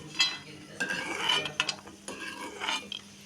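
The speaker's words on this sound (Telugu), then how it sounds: "ఇలా నెయ్యి వేసుకొని డ్రై ఫ్రూట్స్ వేయించుకోవాలి." Dry fruits fry in ghee in a pan for semiya sabudana payasam, giving soft crackling sizzle with intermittent scraping and stirring clinks of a spoon against the pan, close and moderately quiet with no talking.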